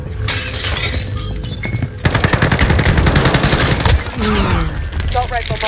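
Assault rifle fire from an M4 in Call of Duty: Warzone, loud sustained automatic bursts with cracking impacts and shattering debris. A brief pause falls mid-way, and fainter game effects sound underneath.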